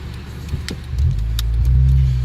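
A customized 2010 Honda Accord lowrider with air suspension pulls away, its engine rumbling low and close as it begins to accelerate.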